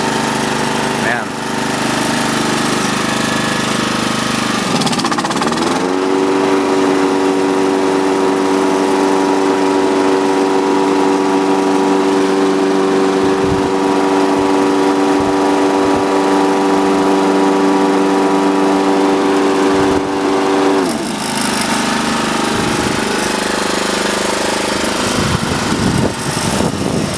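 A lawn mower engine pushed up to high throttle roars loud and close, holding a steady droning whine through the middle before easing back, with no talking.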